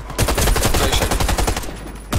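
Rapid automatic gunfire from the shooter game Warface, a dense continuous burst of shots rattling steadily for about two seconds, loud and close, then stopping abruptly before a final shot.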